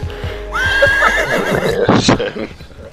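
A video-game horse gives a loud, rising then falling whinny close by, followed by snorting and a few hoof-like thumps.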